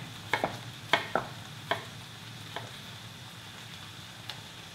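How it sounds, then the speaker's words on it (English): A spoon stirs and scrapes through pork and kimchi stir-fry cooking over medium heat in a pan, with a few sharp clicks over a faint, steady sizzle. "I just cooked this kimchi together around 6 to 7 minutes over medium heat. I just kept stirring."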